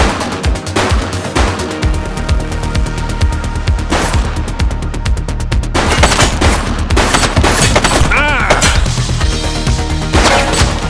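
Loud, sustained gunfire in The Precinct, a cop sandbox game, with dense rapid bursts and overlapping shots running the whole time amid crashes and impacts.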